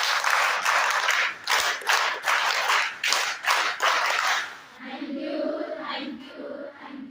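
Audience applause after a talk on digital fraud and cyber crime, dense rhythmic clapping from a crowd for several seconds, then fading into quieter scattered noise and murmuring.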